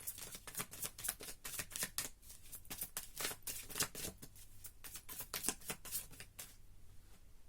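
A deck of tarot cards is shuffled and drawn up close, a quick run of crisp riffling flicks and slaps in an uneven rhythm, heard alone without talk.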